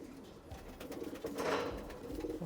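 Pigeons kept for breeding coo softly and low nearby, in a quiet, muffled murmur with a gentle rolling rhythm.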